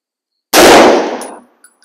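A single loud, sharp rifle shot from a Browning BAR in .30-06, cracking out close after silence and decaying over about a second, followed by faint small clinks.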